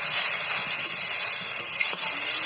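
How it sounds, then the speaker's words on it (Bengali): Taro stems frying in a pan with salt and turmeric, a steady close sizzle and hiss with a few faint stirring clicks, no talk. "এরপর একটু ভেজে নেব।"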